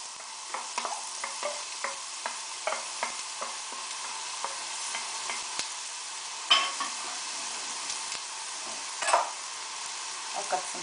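Diced onions and garlic brown in a pan with a soft, continuous sizzle, punctuated by light, regular scrapes and taps of stirring, with a couple of sharper knocks, no voices.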